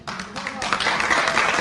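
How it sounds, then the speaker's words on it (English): Someone claps, a busy patter of hands that builds after a brief moment and continues under a talking voice, moderately loud and close. "Who's clapping?"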